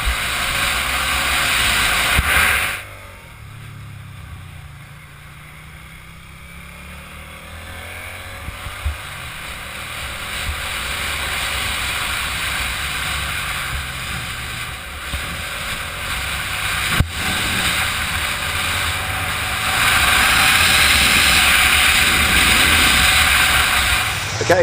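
Suzuki Gladius 650 twin motorcycle ringing out on the road during a ride, a steady engine drone mixed with heavy wind rush, dipping quieter briefly near the start then building back up.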